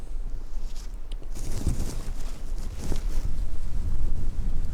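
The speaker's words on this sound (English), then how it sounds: "The wind's picking up" Wind gusts through the woods during a spring turkey hunt, a continuous low rumbling roar buffeting the microphone, rising and falling without any voices.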